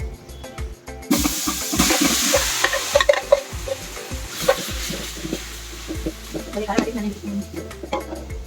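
Marinated chicken pieces for dum biryani land in hot oil with a sudden loud sizzle about a second in, then crackle and hiss steadily under clattering stirring before settling into a softer, continuous fry.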